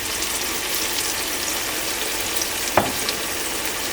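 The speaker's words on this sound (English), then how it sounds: "since we have been roasting our ginger and garlic paste" Ginger and garlic paste sizzles and fries steadily in a pot for mutton nehari, a constant loud hiss with one brief clink of a stirring spoon.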